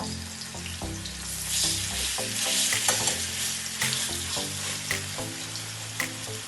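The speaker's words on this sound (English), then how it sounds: "So you just want to fry it a little bit." Pork chops fry in a pan with a busy close sizzle and crackle, while repeated scraping and stirring knocks from a utensil come through at an uneven rhythm.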